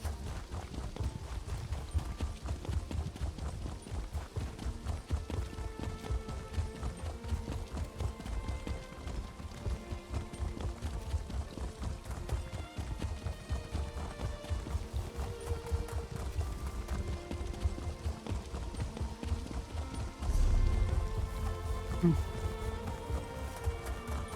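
A horse gallops in The Elder Scrolls Online, its hooves drumming in a steady, fast rhythm for the whole stretch, with a voice talking over the hoofbeats at moderate loudness.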